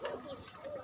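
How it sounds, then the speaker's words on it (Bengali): Pigeons coo softly in a few low, throaty calls close by, mixed with faint background noise. "এদিকে আছে আমার কবুতর"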